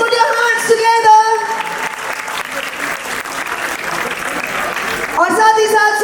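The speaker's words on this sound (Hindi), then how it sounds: "एक बार जोरदार तालियों के साथ स्वागत करेंगे एवरीवन।" Loud, sustained applause from a crowd welcoming a police guest at a preschool's annual day function. It swells and holds steady, with a voice speaking over it at the start and again near the end.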